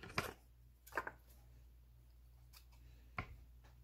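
Scissors cutting yarn for a craft tassel, a few sharp isolated snips spaced out over a few seconds, close and quiet against a soft background hum.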